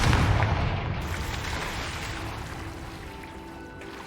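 A Confringo explosive spell in the Hogwarts Legacy game bursts as a loud, rumbling boom that fades slowly over several seconds into a low roar, with no talking.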